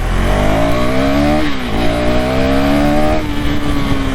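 A 2026 KTM Duke 390 with a 350cc, 41 bhp engine accelerates hard and close by. Its engine note climbs steadily and drops twice between gear changes before rising again.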